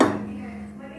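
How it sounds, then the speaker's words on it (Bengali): A metal frying pan is set down onto a kadai with a single sharp clank at close range, its ring quickly fading to quiet within a second. "এই কড়াইয়ে আমি ফ্রাই প্যান চাপিয়ে দিয়েছি।"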